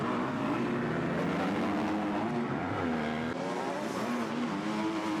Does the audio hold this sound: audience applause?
no